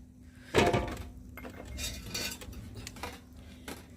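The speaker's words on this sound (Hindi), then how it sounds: "अच्छी तरह से अब हमने मिक्स करना।" Cooked rice being mixed with raisins, coconut and almonds in a pot for jaggery rice, with a loud spoon clatter against metal followed by softer scraping and clinks, no talking.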